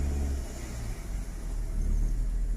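Steady low engine rumble from a vehicle riding around the parking area of a large restaurant, continuous and close, swelling slightly toward the end with no other sounds standing out.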